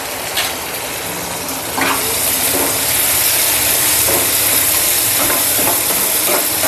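Masala with chili powder frying in a pan for a drumstick curry, giving a steady hiss and sizzle with a few stirring scrapes, close and fairly loud, with no voices.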